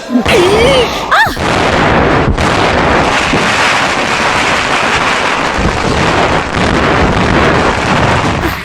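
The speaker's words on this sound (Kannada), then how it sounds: "ಭಯ ಪಡ್ಬೇಡಿ ಯಜಮಾನ್ರೆ ಪಟಾಕಿ ಹೊಡಿಸ್ತಿರೋದು" Loud, continuous crackling bursts of firecrackers going off nearby in a Kannada movie scene, dense and roaring throughout, with a few whistling rockets at the start.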